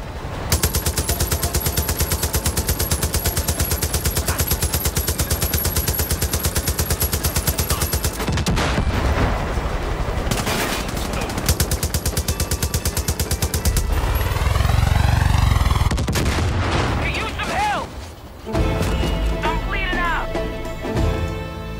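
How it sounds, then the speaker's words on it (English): A machine gun in the Far Cry 5 video game fires long dense bursts, loud and close, followed by explosions and mixed game action with a voice heard partway through. "Use this machine gun."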